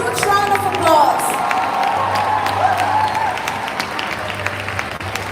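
Applause rises from a school prize day audience, a crowd clapping steadily with some cheering and voices mixed in, sustained at a fairly loud level throughout.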